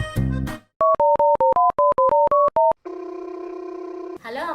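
A mobile phone call being placed: a quick run of about a dozen short keypad dialing beeps, then a steady, loud electronic tone held for over a second. Someone speaks briefly before and after.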